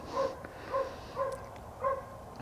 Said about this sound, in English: That dog barking in the background.